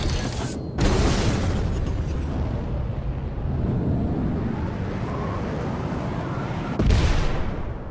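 Missiles fired in a combat video game, heard as two loud booming launches separated by a sustained roaring rumble, with game voice callouts in between.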